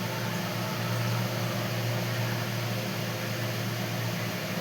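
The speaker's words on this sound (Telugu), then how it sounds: "ఇప్పుడు మనం ఇది మిక్సీ పట్టేసుకుందాం" A kitchen mixer grinder grinding batter gives a steady, loud, even motor whir with a constant droning tone, running alone without pauses or talk.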